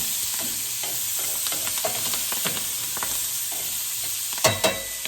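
Onions for a beef stew fry in a pot over medium-high heat, giving a steady sizzle under repeated scraping stirs, with a couple of louder clacks near the end.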